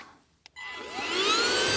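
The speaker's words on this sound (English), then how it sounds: "So let's give this vacuum its first trial run." A Eufy handheld vacuum cleaner switches on after a faint click, its motor spinning up into a steady, fairly loud whine that climbs in pitch and then holds.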